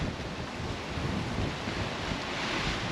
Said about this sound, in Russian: Да, чувствуется, что ветрено.